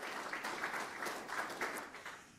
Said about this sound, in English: So a round of applause for Coach Manchester and them.